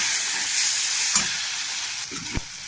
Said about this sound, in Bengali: এটা ভালো করে আমি কষাবো নেড়ে চেড়ে।